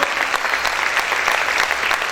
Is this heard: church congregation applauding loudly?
yes